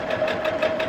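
A sewing machine runs steadily while making a few back stitches on a folded star potholder, a continuous close whirring hum with a faint rhythmic pulse from the needle.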